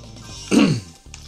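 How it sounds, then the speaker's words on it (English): A single cough from a person playing Super Meat Boy, a short loud burst in the middle against quiet game sound. "You will have to pardon the cough."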